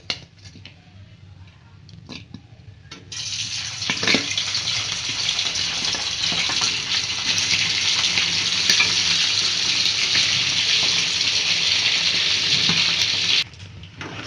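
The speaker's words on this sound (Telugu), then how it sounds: "ఆయిల్ హీట్ ఎక్కిన తర్వాత ఈ ఉడికించుకున్న చికెన్ వేసి వేయించుకోవాలి." Boiled chicken fries in hot peanut oil for pickle, a quieter start before a loud, dense, steady sizzle that continues close by and then drops off near the end.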